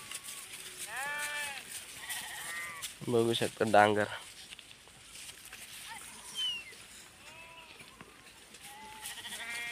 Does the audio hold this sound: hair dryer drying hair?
no